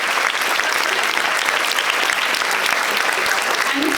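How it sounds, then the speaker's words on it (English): Sustained applause from a convention panel audience at Fan Expo 2016, a dense, steady wash of many hands clapping throughout, loud and continuous with faint crowd murmur mixed in. "let's give a big round of applause for all the queer artists"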